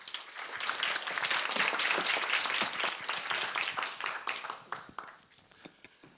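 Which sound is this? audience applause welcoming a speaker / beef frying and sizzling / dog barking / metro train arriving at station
audience applause welcoming a speaker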